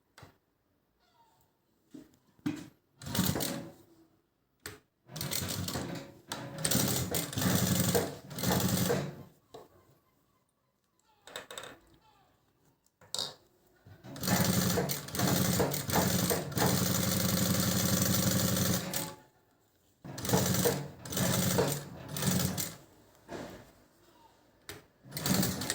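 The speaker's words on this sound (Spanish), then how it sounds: "Vamos a empezar a coser normalmente como se cierra, con una costura recta." Sewing machine stitching a straight seam on a fabric bag, loud whirring runs of several seconds broken by pauses and short stop-start bursts, close up.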